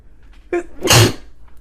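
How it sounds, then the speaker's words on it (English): A single loud sneeze from a woman, preceded by a short sharp inhale, standing alone with near silence around it. "I'm going to sneeze in a second here."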